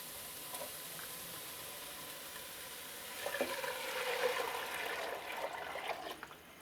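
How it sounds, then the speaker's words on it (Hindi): Chicken stock is poured into a pot of vegetables cooking with onion and black pepper, a watery splash and sizzle that starts after a quiet stretch and continues to the end. "फ़ौरन यखनी डाल देंगे"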